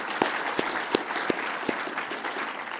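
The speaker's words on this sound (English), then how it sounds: "How about a round of applause for Polly?" Conference audience at the Climate Integrity Summit 2024 applauding a speaker, a steady wash of clapping with a few sharper individual claps standing out.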